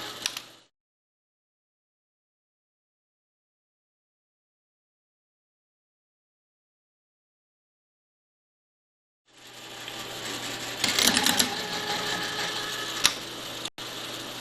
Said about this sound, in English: to beat a tapping head when you have a lot of holes like this to tap